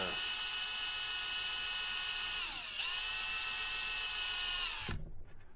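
A power drill boring a hole through a piece of wood during a chest repair, a loud continuous high whine held steady for several seconds, dipping briefly mid-run, then cutting off abruptly near the end, close up with no talking.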